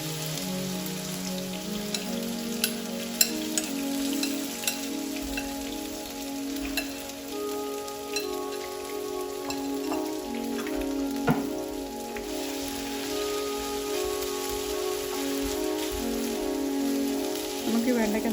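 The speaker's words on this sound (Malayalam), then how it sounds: "നമുക്ക് ഈ വെണ്ടയ്ക്ക നന്നായിട്ടൊന്ന് വറുത്തെടുക്കണം" Okra (vendakka) for pachadi sizzles in hot oil, a steady close, rain-like crackle of frying that holds for the whole stretch, with a few faint clicks and a low hum beneath.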